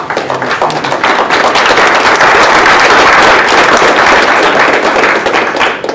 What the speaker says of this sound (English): give a warm applause, a hearty applause to Jung and Steve